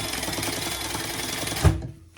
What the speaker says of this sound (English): we're going to stitch as close as we can get without going on our gusset, those two pieces together